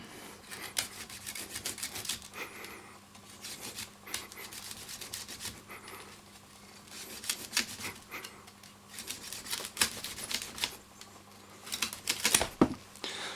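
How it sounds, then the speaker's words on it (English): Rope being cut by a knife with a standard double bevel, in repeated rasping, sawing strokes that come in uneven bursts. The cutting is close and moderately loud, with faint pauses between strokes. "we're just going to cut it and see how we do with it"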